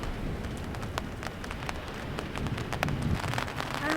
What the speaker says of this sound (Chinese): 雨沒有很大啦